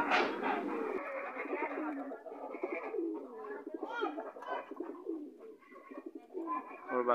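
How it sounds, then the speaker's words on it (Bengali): Shaharanpuri, Kamagar and red-necked pigeons coo steadily in a close, continuous chorus, with a person talking over them throughout. "এখানে কামাগার আছে, তারপর লাল গলা কিছু কবুতর আছে।"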